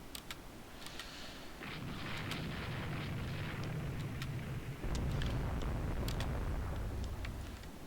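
Naval gunfire and shell hits during a carrier battle in Rule the Waves 2 make a continuous low rumbling roar with faint scattered crackles, swelling and stepping louder midway, no talk.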